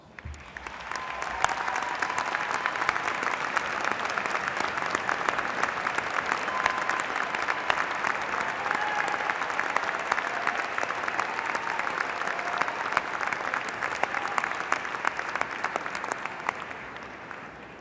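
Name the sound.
commencement audience applause for families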